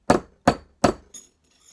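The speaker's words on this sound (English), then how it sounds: "So whenever we're forging, we try to overlap blows." Hammer blows forging and raising a metal piece: three loud, evenly spaced ringing strikes close up, followed by a lighter tap, with no talk.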